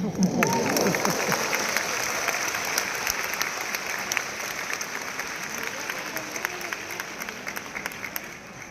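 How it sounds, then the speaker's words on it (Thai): Sustained audience applause at a memorial concert for an 88-year-old singer, a broad wash of many hands clapping steadily in a large hall, with a faint voice briefly audible at the start. "มาชมและปรบมือให้ผู้ชราอายุ 88 นะคะ"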